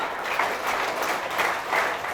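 Loud audience applause at a sermon, sustained dense clapping in gentle swells, with no voices over it.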